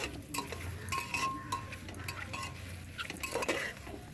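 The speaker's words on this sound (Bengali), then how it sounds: "এটাকে নেড়ে চেড়ে দেবো।" Mutton lungs stirred in a pan as they start to fry, a metal spoon scraping and clinking against the pan repeatedly over a faint sizzle, close by with no voices.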